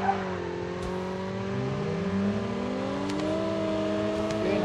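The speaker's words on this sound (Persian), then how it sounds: "نه ماشین میاد" A car engine in Call of Duty Mobile drones and rises in pitch as it approaches, with steady revving tones that climb and shift over several seconds at moderate loudness.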